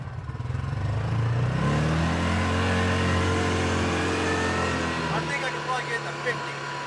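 A 2021 Cub Cadet Challenger MX 750 EPS UTV engine revs up and pulls hard on a test drive, its loud rising drone holding close and steady with harmonics climbing, while faint voices sit underneath.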